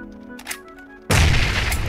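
A grenade blast in the video game PUBG erupts suddenly after some faint quiet sounds, a single loud, broad burst that roars on to the end.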